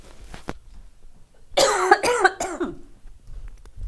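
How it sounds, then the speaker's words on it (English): A single person coughs a few times in a short, harsh burst, close and loud, preceded by quiet breathing and followed by silence. "Oh, I was going to cough"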